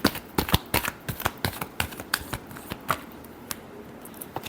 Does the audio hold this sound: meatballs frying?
no